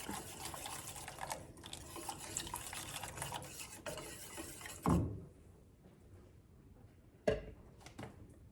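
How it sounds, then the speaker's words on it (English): Champurrado mix whisked while hot water is poured in, a continuous close swishing and liquid stirring that is fairly faint, then thins out, with two sharp clinks of the whisk against the bowl. "I'm gonna mix while I am pouring in the hot water."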